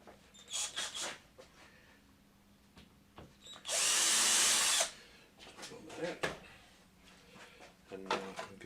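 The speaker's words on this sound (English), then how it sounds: "So I'm going to drill." A power drill bores a hole in a 3D printed plastic fuselage part of a Rumpler Taube model, one loud steady whine lasting about a second, with quieter handling clicks and taps before and after.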